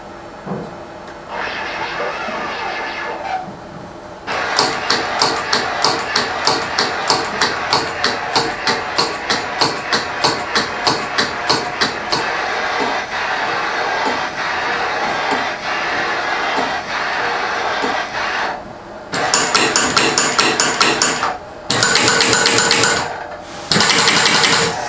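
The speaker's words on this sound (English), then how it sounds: "what you guys got to see just now was a shock being used in a shock dyno" A King off-road shock absorber cycles on a shock dyno in a shop, producing a loud mechanical hum with rapid regular knocking pulses that speed up and change across test speeds, stopping and restarting near the end.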